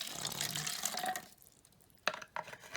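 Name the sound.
hydrogen peroxide being poured into a cup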